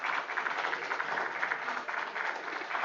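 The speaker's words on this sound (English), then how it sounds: "May I have a round of applause, please?" Audience applause at an international conference on infrastructure management, steady and dense throughout with many hands clapping together, fairly even in level with no voices rising above it.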